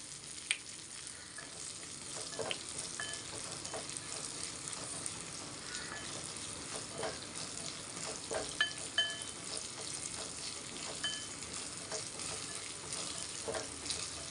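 Turkey berries sauteing with salt in a pan give a steady, fairly quiet sizzle with scattered small clicks and stirring scrapes throughout, and no voices.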